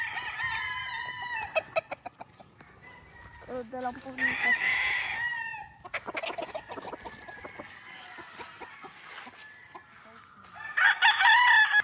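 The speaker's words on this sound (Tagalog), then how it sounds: "Yan po yung mga manok natin." Chickens and roosters on a farm, with repeated loud crowing and clucking from several birds, some near and some farther off, while a person speaks briefly between calls.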